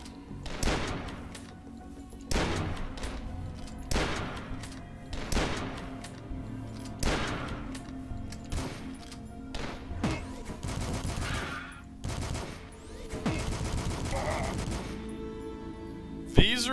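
Repeated heavy shotgun blasts from the super shotgun in the first-person shooter DUSK, loud and close, roughly a dozen booming shots at irregular intervals, with a faint game music bed underneath and no talking.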